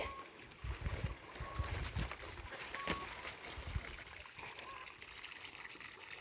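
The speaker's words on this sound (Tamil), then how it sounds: "பார்த்திங்கன்னா காய்கறி செடிக்கெலாம் வந்து பாருங்கள் தண்ணி போயிட்டுருக்கு" Irrigation water trickles and flows along rows of vegetable plants on a farm, a steady low splashing murmur with occasional small splashes, fairly faint and continuous.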